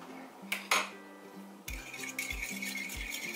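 Eggs stirred in a bowl with a utensil while making old-fashioned Southern cooked banana pudding; light clinks and rattles of metal against the bowl come in a few quiet, irregular strokes, close by.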